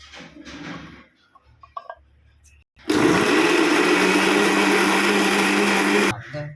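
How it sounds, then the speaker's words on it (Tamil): An electric mixer grinder grinding tamarind with rock salt starts abruptly after a few quiet handling knocks and runs as a loud, steady whirring roar for about three seconds before cutting off. "அந்த புளி இப்போ அரைச்சிடலாம்"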